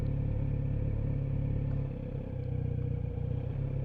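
A 2020 Kawasaki Z900RS motorcycle rolls along at walking pace off the throttle, its engine a steady low rumble close by that dips and softens slightly midway, with no talking.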